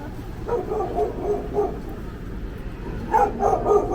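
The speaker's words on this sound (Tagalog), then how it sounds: "May aso dyan, ma'am. Ingat kayo." A dog yips and barks in short bursts, a few medium-distance barks spread across the clip with quiet gaps between.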